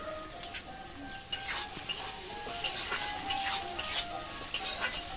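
Beans, carrot and beet frying in a pan for sago pulao, with a steady background sizzle broken by repeated scraping stirs from a spatula and occasional clinks of utensil on metal.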